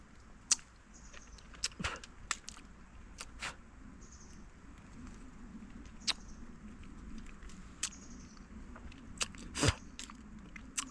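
Crisp bites and crunchy chewing on the peel of a wild forest fruit, quiet and close, with irregular sharp snaps spread across the stretch over a faint outdoor background.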